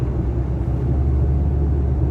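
A car cruises along a city freeway toward the airport, heard from inside as a steady, loud low rumble of engine and road noise with no break.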